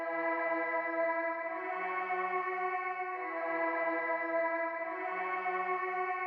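A Synth Vox preset from the Purity synth plugin plays a sustained, vocal-like transition melody, steady and loud throughout with no talking over it.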